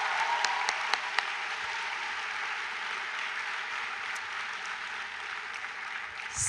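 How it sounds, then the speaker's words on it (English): A university orientation audience gives sustained applause in a large hall, an even, moderately distant patter of many hands with a few sharper claps standing out early on. "So one more round of applause."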